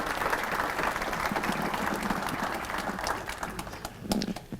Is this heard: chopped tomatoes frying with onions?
no